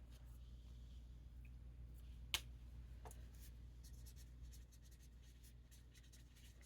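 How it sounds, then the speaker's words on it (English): Faint scratching of writing by hand, soft and steady under a low background hum, with one brief sharper tap partway through and no talking. "I gotta write that."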